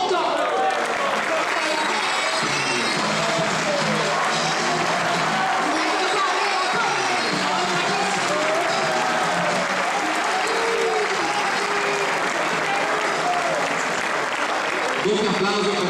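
A crowd applauds at a football team's season presentation, sustained, lively clapping with some cheering, while an announcer's voice carries over it.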